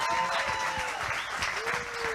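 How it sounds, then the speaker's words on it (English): A live podcast audience breaks into applause, a dense burst of clapping under which voices and a faint tonal sweep carry through. "I am seriously shocked that they're applauding that."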